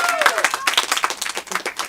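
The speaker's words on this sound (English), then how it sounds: "One round of applause for yourselves" A comedy show audience applauds, with dense clapping from a crowd rising and falling under a speaker's voice.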